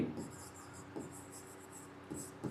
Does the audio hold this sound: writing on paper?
yes